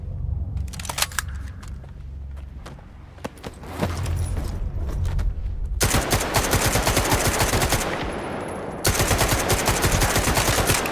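Automatic weapon fire in the video game Stalker 2, with loud, dense bursts of rapid shots that swell after a few sparse early pops and keep hammering almost without pause to the end.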